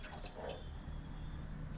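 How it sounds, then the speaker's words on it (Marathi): Water is poured into a pan for brinjal curry, giving a short, steady splashing trickle close by with no voices. "आणि मग यामध्ये आपण पाणी ओतून घेणार आहोत."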